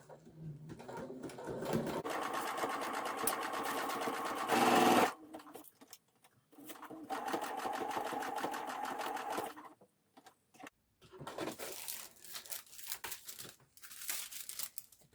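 A sewing machine stitches a hem on stretch knit fabric in several runs of steady, rapid mechanical whirring, stopping and restarting between bursts, with a brief louder rattle midway and faint rustling between runs.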